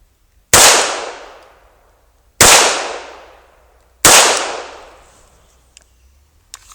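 Three loud, sharp pistol shots from a Sig Sauer P320 striking steel target plates at an outdoor range, evenly spaced about two seconds apart, each ringing and decaying slowly, with a few faint small clicks afterward.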